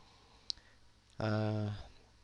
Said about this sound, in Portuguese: Então vamos clicar aqui.